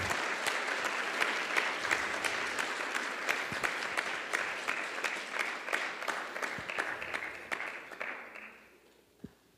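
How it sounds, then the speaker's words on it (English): An audience at a spiritual regional retreat gives a guest speaker a round of applause: crisp, steady clapping from a modest crowd that thins out and stops near the end, leaving a final lone clap. "How about one more round of applause for Brother Jonathan?"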